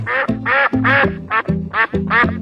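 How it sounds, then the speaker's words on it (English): Duck quacks repeat in a steady run of six loud, close calls with short gaps, no talk over them, presented in a children's animal-names sequence. "duck,"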